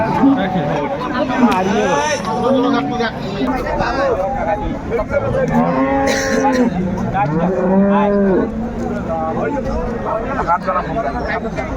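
Dairy cows and calves at the Ambari cattle market in Dinajpur moo repeatedly with long drawn calls, close and loud, over a babble of traders talking and bargaining.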